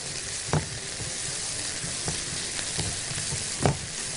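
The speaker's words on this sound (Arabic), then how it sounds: "بعد ما شوحنا البصلاية كده او البصلتين اتنين اللي احنا فرمينهم" Chopped onions and potatoes are sautéed in a pan with a constant close sizzle, broken by a couple of soft knocks from a stirring spoon, with no voices.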